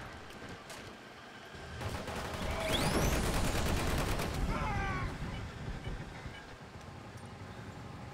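An automated turret in Call of Duty: Ghosts fires a sustained burst of rapid gunfire that swells and then eases off. Rumbling game noise and brief tonal effects sit underneath, and there is no talk.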